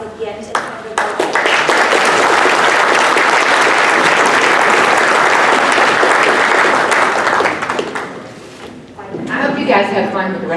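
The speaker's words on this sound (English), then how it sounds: "Let's give a round of applause again to everybody." Audience applause at the VACo 2017 County Officials Summit, a loud sustained ovation from a large crowd that swells quickly, holds steady for several seconds, then fades as a voice returns at the end.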